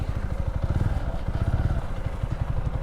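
A motorbike engine idles close by as it is being parked outside a government agricultural office, a steady low thudding putter with even rhythm throughout.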